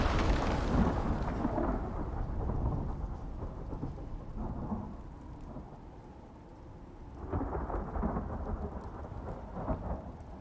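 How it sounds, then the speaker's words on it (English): Thunderstorm in the survival video game Icarus, with heavy rain and deep rolling thunder rumbling continuously at full strength, easing briefly in the middle before swelling again, with no voices. "How are the storms in Icarus now?"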